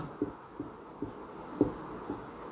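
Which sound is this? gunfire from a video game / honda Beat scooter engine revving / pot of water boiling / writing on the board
writing on the board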